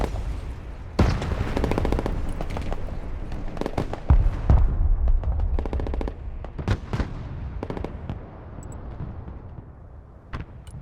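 Machine gun fire in the Broken Arrow war game, rapid bursts and sharp repeated shots coming in irregular clusters, loud and close, with booming impacts mixed in.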